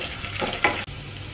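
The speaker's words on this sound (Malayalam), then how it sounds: "ഉള്ളി കാച്ചാനായിട്ട് ഞാൻ അതിൽ 2 ടീസ്പൂൺ വെളിച്ചെണ്ണയും ഒരു 3 ചുവന്നുള്ളി നീളത്തിലരിഞ്ഞത്" Coconut oil sizzles softly as sliced shallots fry, with a spoon stirring and scraping through the pan; a brief clatter midway, no voices.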